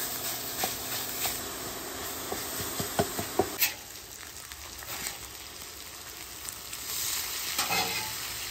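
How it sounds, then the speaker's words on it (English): Bacon sizzles in a pan on the stove for breakfast rolls: a continuous close hiss and crackle with scattered sharp pops and clicks, calmer in the middle before swelling again, with no speech. "Our bacon's cooking nicely."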